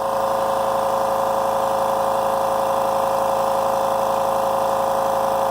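A California Air Tools Ultra Quiet 8010 air compressor runs steadily while filling its tank, giving a constant, even motor-and-pump drone with no breaks, close and moderately loud.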